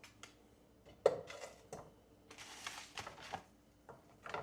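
Butter is stirred around in a pan while cooking potatoes in a home kitchen, giving soft scattered scrapes and clinks of a utensil against the pan, quiet and irregular with brief louder taps.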